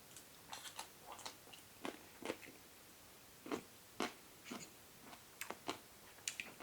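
Close, quiet crunching bites come in irregular bursts as someone chews crisp Tenderstem broccoli cooked in garlic sauce, with no talking.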